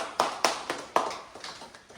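Elderly members of a church congregation clap during a sermon with about eight crisp, unevenly spaced claps that soften and thin out toward the end, close by in a quiet room.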